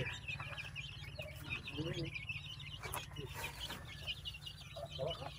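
Young chicks in a backyard range pen with bamboo posts give a steady stream of soft, high peeping and clucking, heard close over a low constant hum, with some faint voices.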